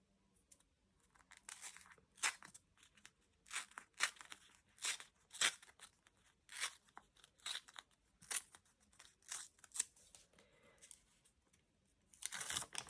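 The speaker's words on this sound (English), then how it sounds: "I think I'll just tear it." Paper being torn by hand for junk journal pages, a series of close, quiet ripping bursts in irregular rhythm, each short rip separated by brief pauses, with a louder tear at the end.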